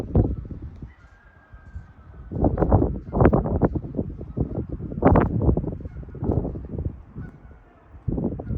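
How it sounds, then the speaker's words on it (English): Several geese or ducks honk repeatedly in loose, overlapping bursts, carrying from some distance across an open pond, with no talking. "it looks like they're ducks or geese. Down there at that pond."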